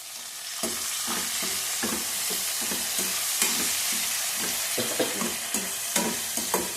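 Curry leaves sizzle in a tempering for rice upma (akki tari upma), a dense, steady crackle overlaid with regular spatula strokes against the pan.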